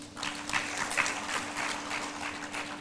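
Steady audience applause at a safe motherhood conference fills the room, dense and sustained with no talking, over a constant low electrical hum.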